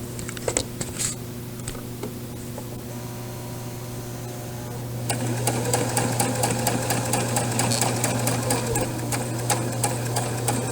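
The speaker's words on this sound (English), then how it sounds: "You will sew the whole length of what you're sewing, trying to keep it as even as you can right along this seam guide." A sewing machine stitches a seam along the seam guide. It starts with a few scattered clicks and a low hum, then runs at a steady rapid rhythm that is close and fairly loud.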